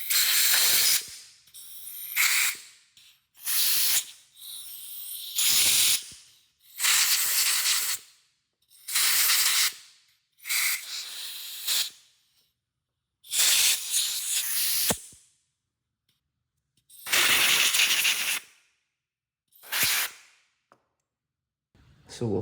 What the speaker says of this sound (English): I like to take a little air compressor and just blow everything out just in case